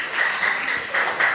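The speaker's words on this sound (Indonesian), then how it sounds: "kasih tepuk tangan" Short burst of clapping from a small seated group at a religious-practice training session, moderately loud and continuous with slight swells, and no clear speech over it.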